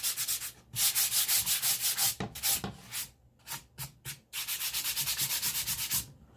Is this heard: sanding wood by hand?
yes